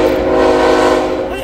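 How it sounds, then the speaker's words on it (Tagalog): A train passes close by near Jasper in the Canadian Rockies, a loud, steady roar with a droning horn-like tone filling the whole moment. "Ay, ang ingay ng tren."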